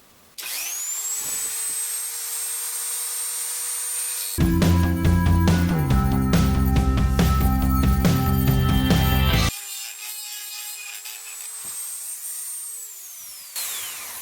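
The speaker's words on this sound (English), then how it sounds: "I'm just going to use my die grinder and just really have at it" A die grinder with a quarter-inch stone bit shaping a steel nut into a ring: a high motor whine spins up, then several seconds of loud harsh grinding against the metal, then the whine alone winding down.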